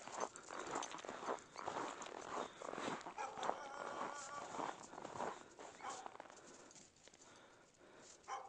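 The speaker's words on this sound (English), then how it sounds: "They just want to bark at you from a distance." Dogs bark from a distance in cold outdoor weather. The barks are faint, scattered yelps over a low background, while a person talks nearby.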